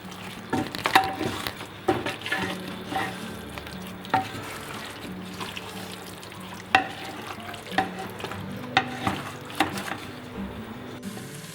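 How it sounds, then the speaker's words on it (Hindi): Cauliflower and mutton cook with green chillies in a pan, giving a low sizzle under repeated sharp spatula knocks and scrapes as the mixture is stirred and fried. "अब मैं इसके अंदर कुछ हरी मिर्च डाल के ना भून लूँगी।"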